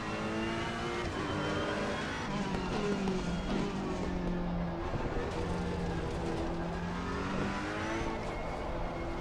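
Race car engine in a racing video game, with a chassis tuned by stiffening the anti-roll bars, revs and accelerates continuously on track. The loud, steady engine drone rises and falls with gear changes and runs throughout, with no talking.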